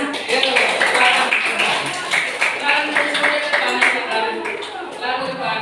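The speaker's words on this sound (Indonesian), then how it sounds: "kita beri tepuk tangan untuk kelompok amanah" A class of students applauding their classmates' group in a school lesson, a dense run of clapping that stays fairly steady and close for several seconds, with children's voices chattering underneath.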